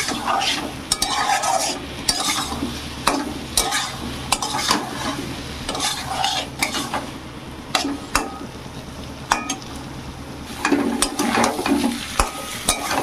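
Potato, pointed gourd and shrimp paste stir-fried with spices in a pan, a crackling sizzle under repeated sharp scrapes and clanks of a spatula, close and rhythmic for the whole stretch.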